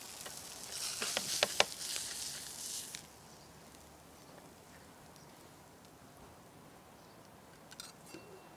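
Salmon steak frying in oil in a pan over medium-high heat, a loud close sizzle and crackle for the first three seconds, then a steady quieter hiss with a few faint pops near the end.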